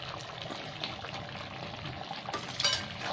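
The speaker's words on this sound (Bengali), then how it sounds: "ভালো করে নেড়ে নেবো।" A spoon stirs karhai chicken with capsicum, green chilli, onion, garlic and ginger paste in a pan, giving soft scraping and faint sizzling with a few light metallic clinks, quiet and close.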